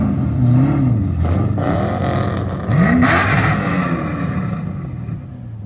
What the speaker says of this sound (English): Got a little Mustang rumbling out here.